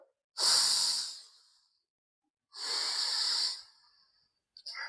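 Two long, forceful exhalations during a yoga breathing exercise, heard close up as breathy rushing bursts separated by silence, followed by the start of a third short breath.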